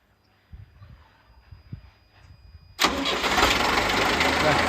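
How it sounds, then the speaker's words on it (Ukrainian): After a few quiet clunks and a brief cranking, an MTZ-82 tractor engine catches and roars into a loud, steady running rumble close by. "Єгор буде зараз заводити трактора."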